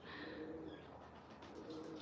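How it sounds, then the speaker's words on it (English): A bird softly cooing, owl-like and pigeon-like in tone, faint and steady in a quiet room with no talking. "it almost sounds like an owl."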